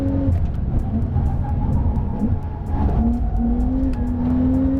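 A 580-horsepower Porsche 911 Turbo S on Pirelli tyres runs hard around a race track, the engine droning loud and close, shifting pitch as it pulls through gears, with brief dips and a rising whine near the end.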